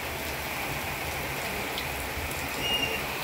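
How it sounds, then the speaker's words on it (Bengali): Steady rain falls beyond a balcony on a rainy day, an even, continuous hiss of drops with no voices. "এই যে বৃষ্টি হচ্ছে"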